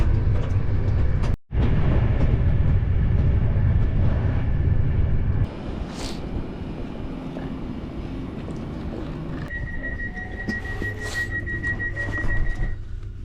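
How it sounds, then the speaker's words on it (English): A loud, continuous rumble of a train in motion between Wigan North Western and Bryn, which drops to a quieter hum midway, joined later by a steady high whine. "So I'm now on my connecting train from Wigan North Western to Bryn."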